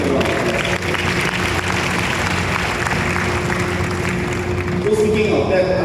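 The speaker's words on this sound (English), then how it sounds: "So let's give our boss a big round of applause" A meeting audience gives the boss a sustained round of steady, dense applause, with crowd murmur and a voice running underneath.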